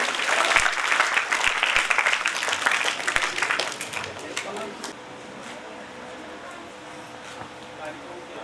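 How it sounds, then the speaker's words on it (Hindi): School audience at a welcome ceremony clapping, strong and crowded for about four seconds, then thinning into a few scattered claps and fading to quiet. "एक बार जोरदार तालियां सभी के लिए।"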